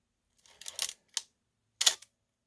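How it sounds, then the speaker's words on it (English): The shutter release of an Olympus OM-1 SLR film camera fires in a quiet room with a soft mechanical clack, followed by two more brief crisp clicks about a second apart. "the shutter release is very quiet for an SLR"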